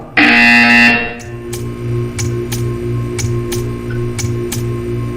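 Portal 2 video game buzzer: a loud, harsh electronic buzz lasting about a second, followed by a steady series of sharp ticks over a low humming tone.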